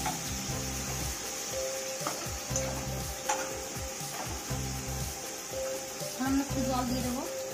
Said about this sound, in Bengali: মশলাগুলো কষে নেব।